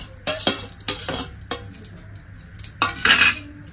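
Chopped boiled eggs being stirred into a simmering egg curry in a metal pot, with a spoon clattering and scraping against the sides in several short bursts and a brighter clink near the end.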